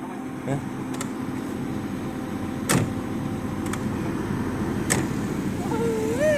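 A car door is pulled shut with the air conditioning running, giving a couple of dull, solid thuds over a continuous cabin hum, with someone speaking nearby.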